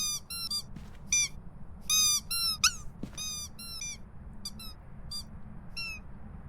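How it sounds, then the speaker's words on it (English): A dog toy squeaks repeatedly when touched by a ghost in the Phasmophobia video game, sharp high squeals in quick irregular bursts over a low steady background hum, fairly close and clear. "So that's what it sounds like when the ghost interacts with the dog toy"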